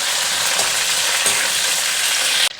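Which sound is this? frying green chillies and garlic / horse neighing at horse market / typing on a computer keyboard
frying green chillies and garlic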